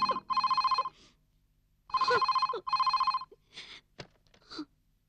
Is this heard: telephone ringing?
yes